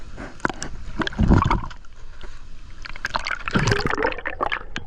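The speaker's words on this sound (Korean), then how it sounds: "앞에 폭포 같은 게 있는 것 같은데 볼까요" Continuous rushing, splashing water with a broad, steady roar from a waterfall close by in a deep mountain valley stream, with brief louder surges.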